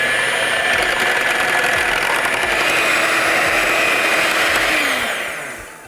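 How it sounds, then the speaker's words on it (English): An electric mixer beats cream with sweetener to stiff peaks, a loud steady whirring drone with a faint scraping rhythm that holds for several seconds, then winds down as it stops. "we'll just beat the cream until it holds stiff peaks"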